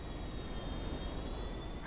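An airplane in the GTA 5 video game gives a steady, loud broadband engine roar with a thin constant whine, sustained for the whole stretch without speech.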